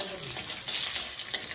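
Panch phoron five-spice mix sizzles and spits in hot oil in a pan, a bright close crackle with a stirring scrape, no talking.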